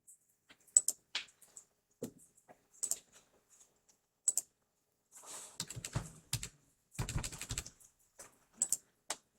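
Buttons pressed on a calculator while entering matrices, a sparse series of small clicks and taps in irregular bursts, close and quiet against near silence.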